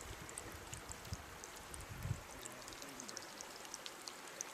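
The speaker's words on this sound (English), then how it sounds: "this is one spot where the water's just kind of bubbling up out of the ground" Spring water bubbling up out of the ground beneath rocks on a hiking trail, a soft, steady trickling wash with faint scattered drops, no voices.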